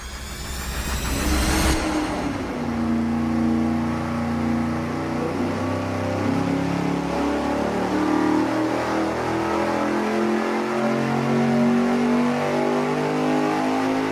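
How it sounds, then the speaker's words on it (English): An engine fitted with a ProCharger centrifugal blower runs on a test stand, its loud, close roar climbing steadily in pitch through a long sustained pull with a rising supercharger whine layered on top. "We have our ProCharger centrifugal blower installed. Now we're gonna run it for the numbers"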